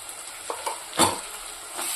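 Ginger garlic paste sizzles and fries in a hot pan for a tomato and cucumber curry, a steady close hiss with a few soft stirring scrapes and one brief louder clatter midway.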